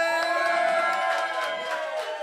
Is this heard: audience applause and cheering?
yes